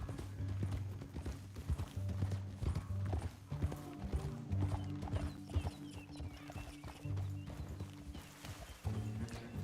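Steady clip-clop of horse hooves at a walking pace on rocky terrain in Red Dead Redemption 2, with low rumbling and mechanical background noise underneath throughout.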